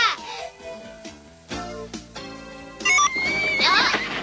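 A coin-operated mechanical rocking horse in a Garfield cartoon lets out a loud, wavering whinny after a short stretch of plinking musical tones, with a bright cartoon flourish around it.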